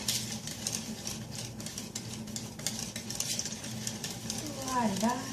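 Chocolate strawberry pistachio coconut flour cake batter being mixed: quick scraping strokes of a utensil against the bowl, soft and steady, with a brief voice near the end.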